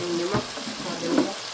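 Dry fish curry with green onion and tomato stirred in a pan, a soft sizzle under two short scraping strokes of a spoon, fairly close and moderately loud.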